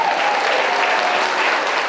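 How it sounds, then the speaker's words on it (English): A comedy club crowd in Sitka, Alaska applauds loudly and continuously, a dense, even wash of clapping with no voices over it. "Can we have a round of applause?"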